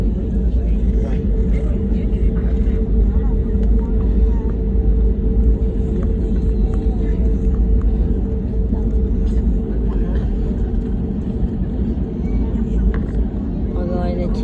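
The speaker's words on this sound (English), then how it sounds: "We're going to take off." A Bamboo Airways Airbus A320neo sits on the runway at Cam Ranh before takeoff, its engines giving a loud, steady low rumble and whine that continues throughout, with voices talking faintly underneath.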